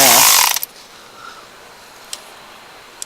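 A ratchet tightens valve cover bolts on a 2002 Mercedes ML320 3.2L engine, giving a loud burst of rapid clicking at the start, then two faint single clicks, with no talk.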